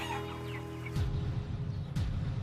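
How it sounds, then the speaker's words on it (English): Chickens cluck and chatter nearby, a few short clucks over a low background hum, with a couple of sharp rustling bursts. "What do these chickens do mostly all day?"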